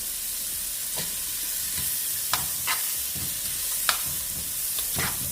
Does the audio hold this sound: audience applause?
no